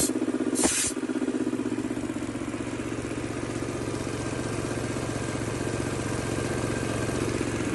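A Honda GX160 engine driving a two-cylinder field air compressor runs steadily with a loud, even mechanical drone and clatter, after a brief hiss of air near the start.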